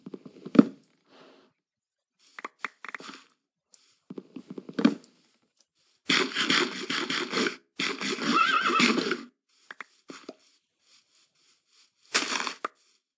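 Horses in a farming or building video game neigh and whinny in several bursts, with a long loud whinny in the middle and shorter calls around it, close and clear against near silence.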